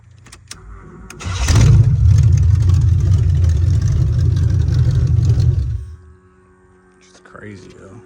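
A Monte Carlo SS with no gas catches after a few clicks and rumbles at a steady, loud idle for about four seconds before dying out, leaving faint background noise and a voice near the end.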